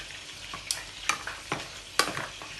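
A spoon stirring food in a hot pan after lemon juice is added for a homemade beef hamburger, several distinct scraping strokes over a low sizzle, close, with no talking.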